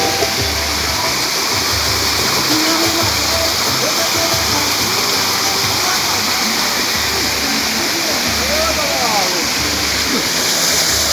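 Clean water flows steadily at São Benedito, a loud, constant rushing like a small waterfall or stream close by, with voices talking over it.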